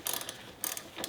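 Ratchet turning a 17 mm fill bolt loose on a Honda Ascot gearbox, three short bursts of rapid metallic clicking, close and fairly quiet with pauses between.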